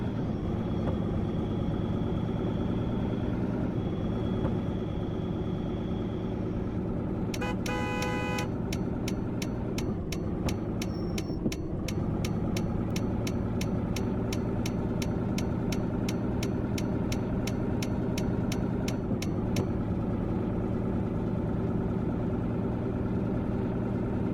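Diesel truck engine in Truck Simulator: Ultimate idling steadily throughout, with a short horn-like tone and a run of rapid ticking clicks partway through, like a turn signal.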